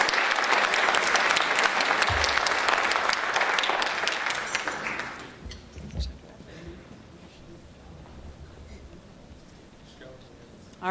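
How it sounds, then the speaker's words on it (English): Audience applause at a spring band concert, a dense burst of clapping that fills the first five seconds and then fades into quieter room noise with murmuring. "I'd like to give a big round of applause before the vote for Rohini Winters"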